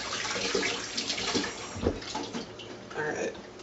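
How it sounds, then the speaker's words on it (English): A kitchen tap runs while hands are scrubbed beneath it, a close, steady splashing of water that shifts as the hands move through the stream. "I gotta wash my hands now"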